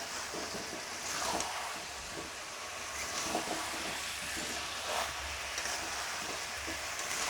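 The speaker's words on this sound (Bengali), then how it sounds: "দেওয়ার পরে এবার নাড়তে হবে ভালো করে" Potatoes are stirred in a hot wok (kadai) for kosha alur dam: a continuous sizzle with repeated scraping strokes of the spatula at a steady, unhurried pace, close and alone without speech.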